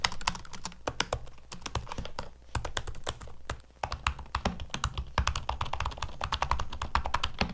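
Rapid, crisp keystrokes on the keyboards of a 2010 and a 2018 MacBook Pro, close up and continuous, with uneven rhythm and brief pauses between bursts.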